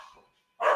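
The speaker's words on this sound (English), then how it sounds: "I hope you can excuse the barking." A dog barks once at home: a short, sharp, fairly loud bark at the very end after a brief quiet gap, with no talking.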